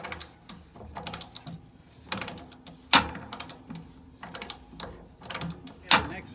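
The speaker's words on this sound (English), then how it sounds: "Okay, I've already broke this free, so now it's just to take the nut off." Ratchet wrench turning a nut off a truck's stainless exhaust section, giving bursts of quick clicking ratchet strokes in short runs with pauses, close and moderately loud, sharpest near the 3 and 6 second marks.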